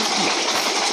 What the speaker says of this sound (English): Vande Bharath Express, running at a speed of 180 km per hour, crossing Waniambadi Junction